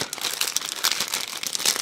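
Plastic bag crinkling steadily as parts of a Takom 1/35 scale Chieftain Mk10 tank model kit are handled, a close, continuous rustle with no talking.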